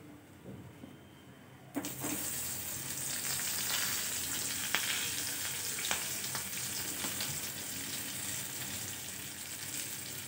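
Stuffed okra hits hot oil with a sudden burst of sizzling that settles into a steady, dense crackle, close and fairly loud, with occasional sharper pops.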